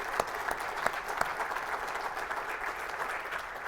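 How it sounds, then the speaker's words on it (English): Panelists at a multifamily housing investment forum get a brief round of applause from the conference audience, a dense even patter of clapping with a few louder claps standing out near the start. "let's give a round of applause to Holly and Scott"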